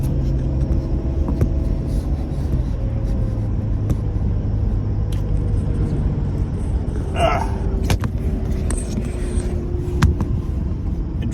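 A car with misfire troubles, fresh coils and a lit check engine light pulls out onto a main road and picks up speed, its engine rumbling loudly and steadily up close inside the cabin with a few clicks and knocks.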